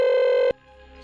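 A telephone sounds in a home during an Indian TV crime drama, with a call coming from the panchayat office. A loud, steady electronic tone holds for about half a second, then cuts off into a faint hum.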